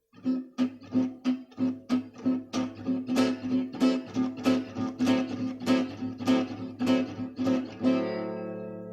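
Gypsy jazz rhythm guitar strums a steady chordal pattern, alternating plain rhythm with punchy accents on beats two and four, each stroke crisp and percussive, ending on a ringing, sustained chord.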